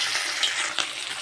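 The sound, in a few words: small fish frying in hot oil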